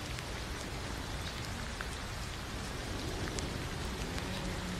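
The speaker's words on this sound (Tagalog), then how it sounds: "Rainy day." Steady rain falls on a garden, a dense, even hiss of drops on leaves and surfaces with no voices, continuous for several seconds.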